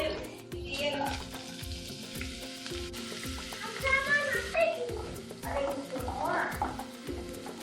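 Onions fry in hot oil in a pan with a faint, continuous sizzle and rhythmic stirring scrapes, while a person talks over the cooking.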